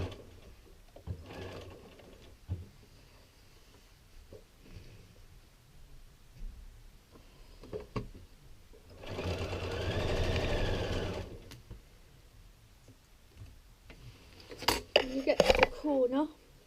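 A domestic sewing machine stitching fabric runs in a steady whirring burst for a couple of seconds mid-clip, surrounded by quieter handling noises and a brief clatter near the end, with a person speaking around it.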